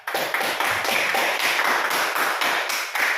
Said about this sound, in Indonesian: Iya, beri tepuk tangannya untuk kelompok 3.